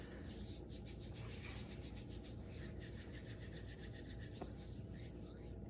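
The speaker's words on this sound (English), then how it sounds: "I want you to first rub your hands." Hands rubbed briskly together, a soft, steady dry rasping close by and very faint, continuing evenly throughout with no speech.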